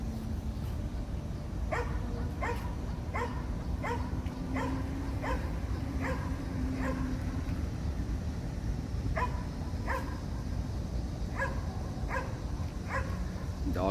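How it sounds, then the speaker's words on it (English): A dog barks at a squirrel in a tree outdoors, a series of repeated sharp barks in two bursts, moderately distant, over steady background noise and faint crowd murmur. "Dog barking at a squirrel in a tree."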